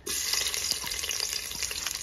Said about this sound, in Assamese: এতিয়া মই ভাজিম পিঁয়াজখিনি দি দিছোঁ প্ৰথমতে তেলত